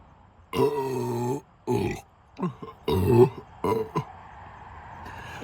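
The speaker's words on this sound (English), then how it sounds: "Loud ass burps" Several loud, drawn-out burps from a person who has just chugged a 2-liter bottle of Diet Coke, two long croaking belches and a few shorter ones close to the mic, with gaps of quiet between.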